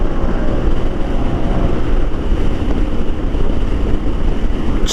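A 1998 Honda Goldwing motorcycle cruising at about 100 mph, heard as a loud, unbroken roar of wind buffeting with a low engine rumble beneath, steady throughout with no talking.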